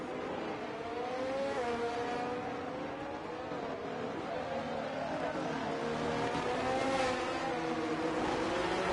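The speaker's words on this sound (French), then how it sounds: "Tomoru qui est à l'attaque sur le pilote Red Bull, Romain Diaz." Race cars roaring through a race in a racing video game, engine pitches rising and falling continuously at moderate level under steady commentary.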